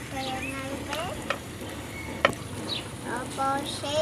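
Carrots and potatoes stirred and frying in a pan, a steady close sizzle with scraping stir strokes and a few sharp clinks; birds chirp in the background.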